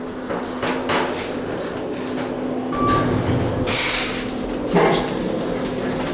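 KONE EcoDisc main elevator at the Playa Largo Resort & Spa running, a steady low machine hum with a faint tone and scattered clunks and rustles inside the cab, fairly close and continuous.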